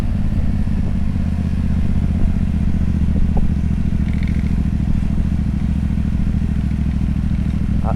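A motorbike pulls away on a hill start, a steady low engine drone held close and loud for several seconds with faint clatter over it.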